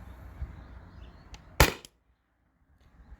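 A single sharp pop from a stock Salt Supply S2 paintball marker running on CO2, one loud close shot standing out from quiet outdoor background, followed by a brief tail and near silence.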